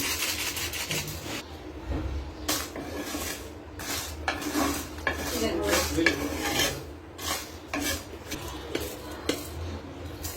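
Dried red chillies, whole cumin, whole coriander and panch phoron roast in a dry pan over very low heat, giving a steady raspy scraping with scattered clinks of a spatula against metal.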